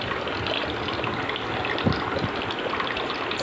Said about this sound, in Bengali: স্নান চলছে অন্নপ্রাশনের জন্যে